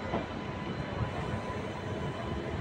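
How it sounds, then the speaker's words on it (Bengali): The Sealdah Balurghat Express pulls out of platform 5 at Bandel, heard as a continuous loud rumble of rolling wheels and carriages close by, with no talking. "ব্যান্ডেলের 5 নম্বর প্ল্যাটফর্ম থেকে ডিপার্চার নিচ্ছে ট্রেন"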